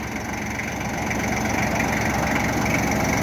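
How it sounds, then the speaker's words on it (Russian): An ISEKI TS3910TC four-wheel-drive tractor fitted with a front loader and rotary tiller runs at a steady idle, a smooth, even engine hum held close and continuous with no knocks or surges. "Как вы слышите, работает он мягко, так как и должен работать. Никаких нареканий к работе двигателя нет."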